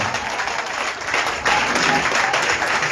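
Wedding guests applaud and cheer at the arrival of the bride and groom on a riverbank in Vridi, a dense steady roar of clapping that swells louder halfway through and keeps going.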